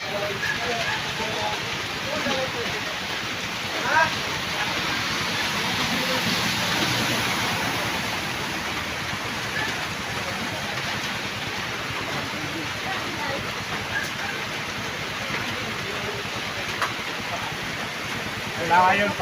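Heavy rain pours down during two days of steady downpour that caused flooding, a dense, constant hiss that fills the whole stretch, with a voice speaking faintly beneath it.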